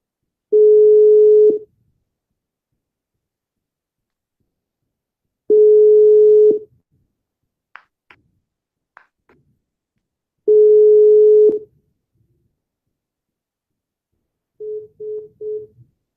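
A telephone call tone while dialing a caller-in: three long, steady, identical tones spaced about five seconds apart, followed by a quick run of short beeps at the end, with no talk.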